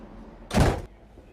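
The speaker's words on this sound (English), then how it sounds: "Then train and closing the door behind." A train door on a ONE Anglia service shuts with a single loud thunk, a short, broad burst lasting about a third of a second against a quiet background.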